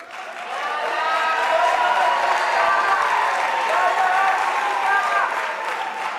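Audience applause at a university autumn graduation ceremony in South Africa, a loud sustained wash of clapping from a large crowd that holds steady throughout.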